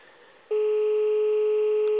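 Telephone line tone heard while calling a doctor's surgery in León, Spain: after a brief quiet hiss, a loud, steady, unbroken tone starts and holds for over a second.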